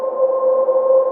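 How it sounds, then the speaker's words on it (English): A plain, mellow synth pad one-shot with no arpeggiator, held as a single steady sustained tone for about a second at even loudness, with no talk. "Essentially used it in order to change it from just like a normal pad where it would sound like this"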